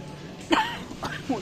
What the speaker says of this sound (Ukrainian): Я оце як заходжу, аж кашлять мені починається